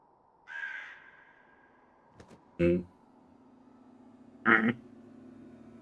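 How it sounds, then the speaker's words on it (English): A crow caws in a video game: several separate harsh calls spaced a second or two apart, each short and sharp, over a faint steady background. "Another crow?"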